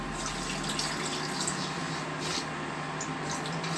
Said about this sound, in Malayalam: ഇനി നമുക്കിത് മുങ്ങി കിടക്കാൻ വിധം വെള്ളം ഒഴിച്ചു കൊടുക്കാം